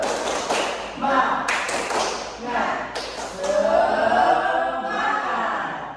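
A class claps in a quick, patterned rhythm, mixed with voices chanting loudly together; the claps come as sharp bursts between the shouting.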